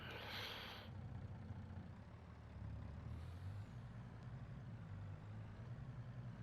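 A large truck rolls along a narrow road in a farming video game on PS5, with a steady low engine rumble and a brief hiss of air brakes at the start, heard alone with no talk.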